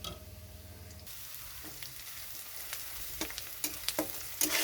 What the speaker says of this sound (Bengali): এখানে পেঁয়াজটা একটু ভাজা হয়ে গেছে